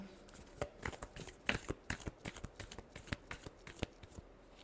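Tarot cards are shuffled by hand in a quiet room: a quick, uneven run of soft riffling snaps and slaps, close and fairly faint, with no voices.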